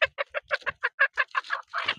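A Sonali chicken clucking up close: a quick, evenly spaced run of about a dozen sharp clucks over two seconds, loud and alone with no voices.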